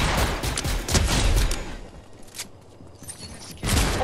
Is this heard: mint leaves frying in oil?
no